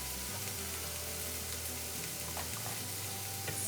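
Chicken frying in orange sauce with ginger stirred in, a steady close sizzle and crackle with a low hum beneath, no voices.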